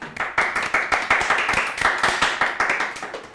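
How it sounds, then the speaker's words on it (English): A small audience claps after a university game programming lab presentation, sharp, distinct hand claps in a loose, uneven rhythm, close and fairly sparse. "everyone involved deserves a round of applause for what they've done"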